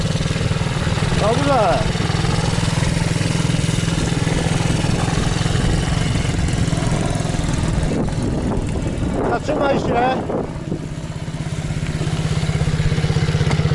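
Small MRF pit bike engine running steadily through a riding lesson, a constant buzzing drone close by, while an instructor speaks briefly near the end.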